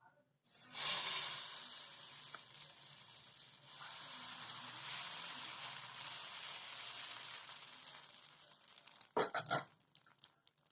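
Wheat rava sponge dosa batter poured onto a hot pan, bursting into a loud hiss that settles into a steady close sizzle, with a few sharp scraping clatters near the end.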